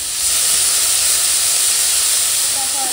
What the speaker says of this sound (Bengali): এখন লবণ হলুদ দিয়ে এই করলাটা ভেজে নেবো